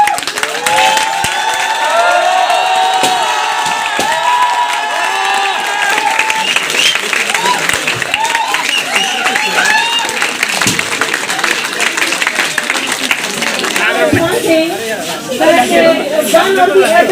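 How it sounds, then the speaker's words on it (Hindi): A crowd claps steadily at a Teachers' Day celebration in a medical college, the applause filling the room alongside lively chatter and cheering voices that grow more prominent toward the end. "ताली रुकना नहीं चाहिए।"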